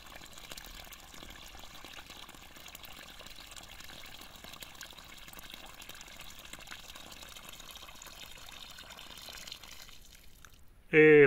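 Tap water runs steadily at a low, even level for about ten seconds, then cuts off just before a brief loud burst at the end.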